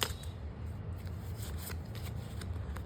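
Tarot cards are shuffled by hand in a steady, close riffling flutter of card edges that continues unbroken, with no talk over it.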